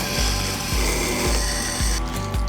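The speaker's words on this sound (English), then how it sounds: "it's just a matter of lightly dragging the knife across the surface with a slight rotation to get the tip" A knife blade is drawn slowly across a wet stone grinder, giving a steady, close rasping scrape over a continuous low machine hum, with a soft periodic rhythm roughly every half second.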